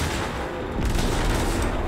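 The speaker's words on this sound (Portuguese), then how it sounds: "Vai lá o míssil nele" Missile fire and explosions in the space combat mode Railjack of the video game Warframe, a dense continuous barrage of booms and blasts that grows heavier partway through, loud and close, with no voices over it.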